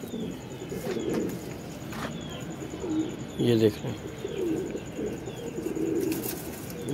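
Breeding pairs of pigeons in a loft coo in soft repeated phrases close by, with a brief flurry of wingbeats midway and someone talking intermittently over them.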